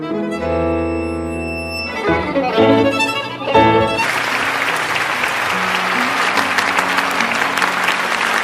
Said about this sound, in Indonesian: Kose dan Kaori disambut tepuk tangan yang meriah dari para penonton.